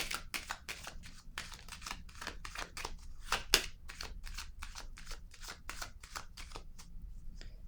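Tarot cards handled on a table, a quick run of crisp slapping, shuffling snaps close by and fairly quiet, repeated steadily without talk.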